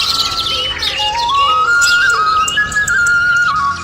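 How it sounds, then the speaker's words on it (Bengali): Birds chirp and whistle by day in a tree-ringed riverside village, one bright rising call sliding in pitch over a bed of busier twittering, close and loud with no talk. "দিনের বেলায় পাখির ডাক"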